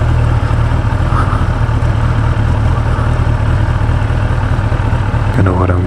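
A 2015 Kawasaki Ninja ZX10R ABS 1000cc sport bike idles close by with a steady, smooth, loud low rumble that does not stop. A brief shift in the engine note comes near the end.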